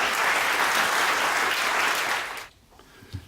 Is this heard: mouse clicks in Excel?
no